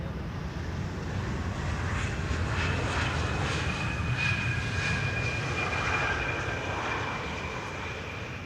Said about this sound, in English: The Embraer 175 in the meantime has touched down here on the Polderbaan.